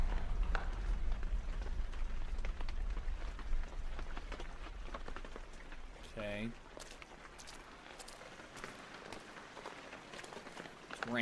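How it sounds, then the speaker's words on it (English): Steady rain in the video game Observer patters across a hard surface, with someone talking over the constant downpour. "Raining."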